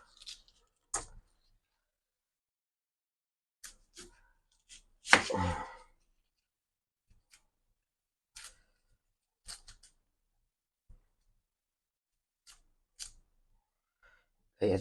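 Onion and garlic chopped with a knife on a board, scattered sharp taps and a brief cluster of quick cuts amid quiet pauses, near and fairly faint.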